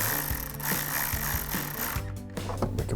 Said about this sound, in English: We're going to tighten this nut back down.